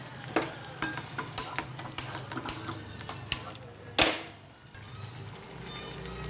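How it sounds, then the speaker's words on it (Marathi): Masala-stuffed fried eggs stirred gently in a pan, a steady sizzle with a series of light utensil taps and scrapes against the pan, one louder clank near the end, close and alone without talk. "आता हलक्या हाताने याला मिक्स करून घेऊ"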